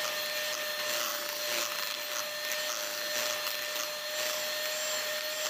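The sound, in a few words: electric mixer beating butter at high speed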